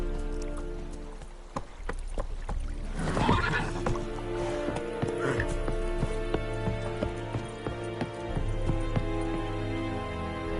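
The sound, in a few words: horse Roach neighing and hooves, from video game The Witcher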